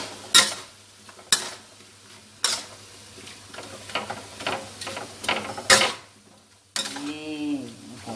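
Lotus stems being stir-fried in a pan with a little sugar, the spatula scraping in sharp clacks about once a second over a low sizzle, with a brief bubbling, warbling sound near the end.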